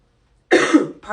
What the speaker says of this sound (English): Whenever I go live, I start coughing.